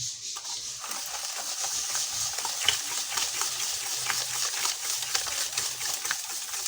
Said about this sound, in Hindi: इसको अच्छी तरह हम बीट कर लेंगे ताकि चीनी हमारी जो है वो मिक्स हो जाए बिल्कुल।